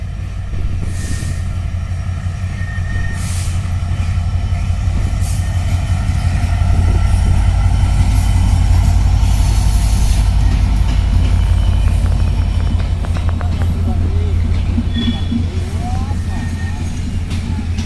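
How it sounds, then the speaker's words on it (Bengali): Panchagarh Express hauled by locomotive 6630 rolling slowly into Parbatipur junction, a loud, steady low rumble of wheels and engine throughout, with a voice talking over it. "পার্বতীপুর প্রবেশ করছে স্লো গতিতে হয়তো কোনো ইনস্ট্রাকশন আছে স্লো প্রবেশ করার জন্য লোকোমোটিভ ছেষট্টি তিরিশ"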